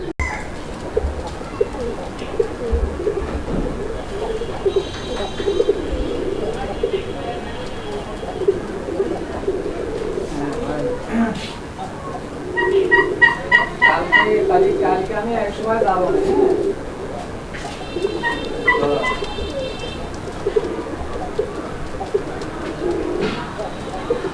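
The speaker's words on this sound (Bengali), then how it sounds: "কালারিং রাজগোল্লা নটটা ডাক অ্যাক্টিভিটি আপনারা দেখলেন" A male Raj Golla pigeon coos repeatedly in rolling, throaty phrases over a steady background of other birds, with someone talking at times and a brief clucking burst midway.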